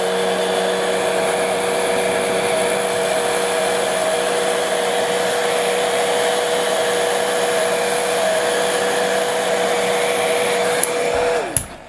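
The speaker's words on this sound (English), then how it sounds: "that's pretty easy to get rid of with the heat gun" A heat gun blows a steady, loud whooshing hum with a fan whine while shrinking wrinkles out of a vintage RC slope glider canopy (Bob Martin SR-7). It runs alone and continuously, then cuts off with a click near the end.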